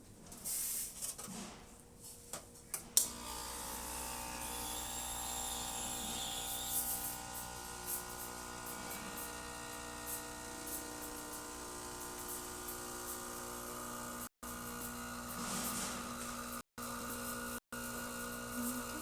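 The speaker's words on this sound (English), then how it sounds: "So I'm just going to pull a shot and show that the machine is working." An Expobar espresso machine, freshly serviced, pulls a shot: a steady pump hum and hiss runs continuously after a few clicks and knocks at the start, with a few brief dropouts near the end.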